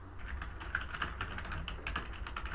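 Rapid, uneven keystrokes on a computer keyboard clatter steadily for a few seconds, close and fairly loud, with no voices over them.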